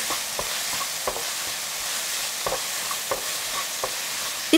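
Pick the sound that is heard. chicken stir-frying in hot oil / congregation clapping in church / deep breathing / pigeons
chicken stir-frying in hot oil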